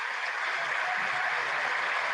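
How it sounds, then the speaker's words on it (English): Members of Congress applaud Biden in a large chamber, a continuous, even roar of many hands clapping at once that holds steady without a break for the whole two seconds. "They're applauding Biden."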